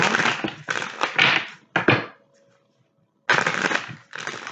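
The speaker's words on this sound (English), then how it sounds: "I'm going to shuffle them a couple times on camera" Crystal angel oracle cards being shuffled by hand in several dense riffling bursts, loud and close, with a brief quiet pause in the middle before the shuffling resumes.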